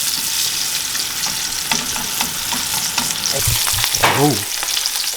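Chicken frying in oil makes a steady, loud sizzle and crackle throughout, with a short stirring or tossing clatter and a squeak near the end, and no talking.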